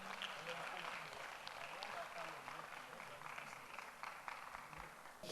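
Applause from an audience at a product launch event, a dense, steady wash of clapping at moderate distance, mixed with crowd noise and voices throughout.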